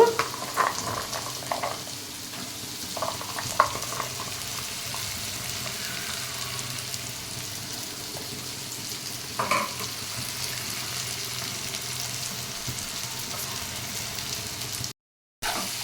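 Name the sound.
jackfruit seeds frying with onions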